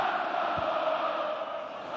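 Vociferous Legia fans roar in a football stadium, a broad sustained crowd din with a dull low thump partway through, fairly even in level and fading slightly toward the end.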